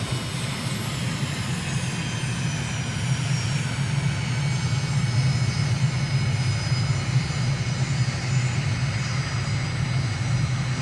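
Steady aircraft engine drone from a small plane in Microsoft Flight Simulator flying a landing approach over Thailand, a continuous low hum with faint high whine held evenly throughout, no voices.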